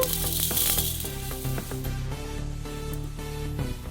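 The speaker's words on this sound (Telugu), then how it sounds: "ఎండు కొబ్బరి ధనియాలని ఇలా వేయించుకోవాలి" Dry coconut, coriander seeds and fenugreek roast in a pan with a continuous, fairly loud sizzle and crackle, broken by occasional sharp ticks and scrapes; no voices.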